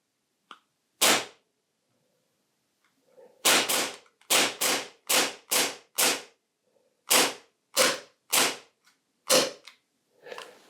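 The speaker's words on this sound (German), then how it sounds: "Schnelle Schussfolgen sind möglich." Rapid shots from a VFC HK P7M13 airsoft pistol, a dozen sharp snapping cracks fired in quick bursts with short pauses between groups, close and loud in quiet surroundings.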